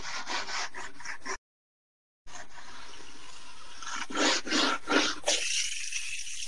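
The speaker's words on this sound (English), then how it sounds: "then you can go back to your scrubber brush" A scrubber brush rubs foil over a cornhole board during an epoxy finishing job, making repeated close scratchy back-and-forth strokes, broken by a short silent gap.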